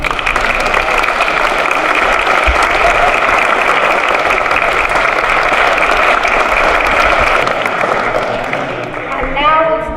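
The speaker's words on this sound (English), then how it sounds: "we give them a round of applause for their leadership." Sustained applause from a large crowd at a conference panel fills the room steadily for several seconds, fading slightly at the end.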